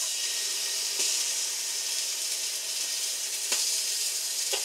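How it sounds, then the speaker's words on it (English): Bacon frying in a large pan for sauerkraut soup, a loud continuous bright sizzle with a few faint clicks of a utensil, no talking. "we're going to start sauteing our bacon"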